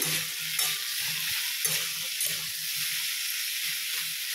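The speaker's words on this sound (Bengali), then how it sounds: "ফুলকপিটা একটু ভাজা ভাজা হোক" Cauliflower frying in a pan, a constant hissing sizzle with low rhythmic rattling and stirring thuds beneath it.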